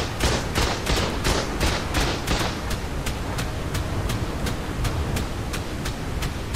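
A turret in the game Ark fires repeatedly at a player during a PvP base raid, rapid regular shots crackling over a constant roar of background noise, steady for several seconds.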